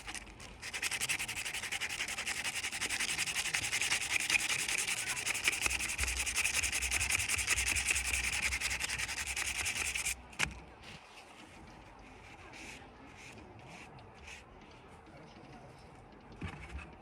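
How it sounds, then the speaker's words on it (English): Hand sanding on a painted drinking horn, a dense raspy scrubbing rub that continues for about ten seconds, then stops abruptly, leaving quieter intermittent scratches and handling sounds. "A few spots that still need some sanding"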